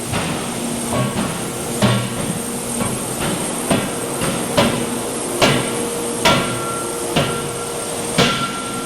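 A 4,000-pound industrial forging hammer strikes repeatedly at a steady pace in a forge, each blow a sharp metallic thud over constant factory rumble.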